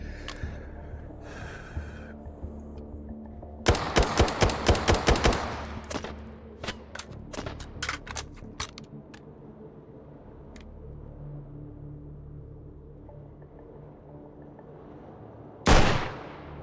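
Gunfire in the H3VR virtual reality shooter: a rapid burst of loud, close shots, then scattered single shots, a long quieter stretch, and one more heavy shot near the end.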